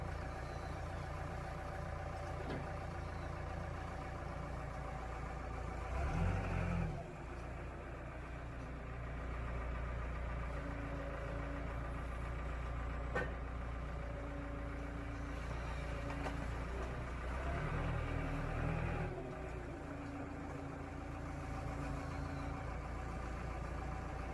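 A forklift's engine idles steadily through a licensing practical test while unloading and reloading a pallet, a low continuous rumble with two brief surges of revving partway through.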